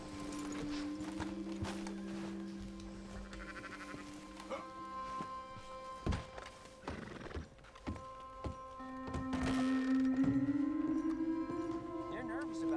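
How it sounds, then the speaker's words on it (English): Horse hooves clip-clop in Red Dead Redemption 2 as a horse is hitched up, irregular and fairly faint under a steady game soundtrack, with a brief spoken voice partway through. "let's hitch up the horse"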